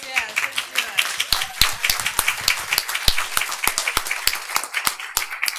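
Parents clap at a school board meeting, a crisp, fairly close run of uneven individual handclaps from a modest group, with a voice briefly audible at the start.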